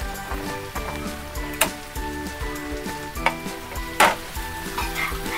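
Mashed boiled potato stirred into softened filling for masala dosa, sizzling softly in a pan with spatula scrapes and a few sharp clinks against the metal, steady and close throughout.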